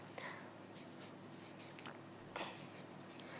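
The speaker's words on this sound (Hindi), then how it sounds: "हमने इस कागज पर लिखा सपना" Pen or pencil writing a name on paper, quiet scratching strokes in a few short bursts over a steady background hum, with faint speech.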